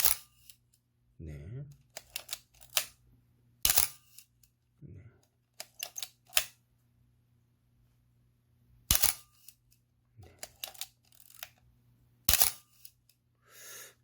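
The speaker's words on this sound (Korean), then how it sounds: "셔터 동작이 문제는 없는 것 같은데" A Pentax Spotmatic 35mm SLR camera, freshly lubricated with new mirror damper foam, fires its shutter repeatedly: sharp mechanical clacks spaced a second or two apart, close and clear, with soft handling noises between them.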